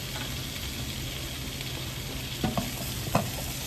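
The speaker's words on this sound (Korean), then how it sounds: "이렇게 양파 다음에 넣어서 오랫동안 볶아주시면 부드럽고 맛있습니다" Carrots and onions stir-frying in oil for spicy Chinese-style jjamppong, a dense continuous sizzle with a few sharp scrapes of a utensil against the pan near the end.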